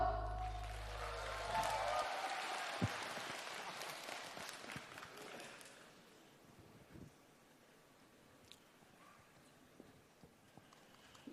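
Audience applause at a BYD Song Ultra EV launch event welcoming an executive on stage, swelling loudly at first then thinning into scattered claps and fading toward quiet.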